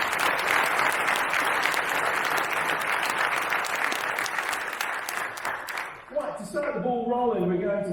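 Sustained audience applause at a 2020 meet-the-candidates event in a Baptist church, dense and continuous for several seconds before fading, with a voice beginning to speak as it ends.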